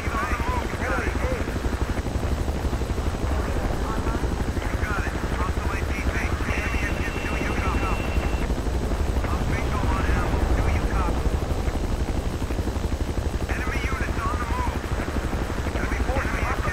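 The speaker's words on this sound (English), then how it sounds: "that chopper beat us to it there" Helicopter rotor and engine drone in the Battlefield 2 multiplayer shooter, steady and loud throughout, with battle noise and bursts of chatter layered over the continuous whir.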